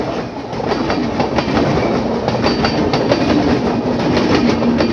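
The Amritsar Mail passenger train between Howrah and Amritsar, hauled by locomotive 37042, passes close by with a continuous heavy rumble and steady clickety-clack of wheels over rail joints.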